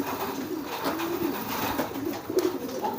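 Several pigeons coo softly while being fed, low throaty burbling calls repeating close by in an irregular rhythm with no talk over them.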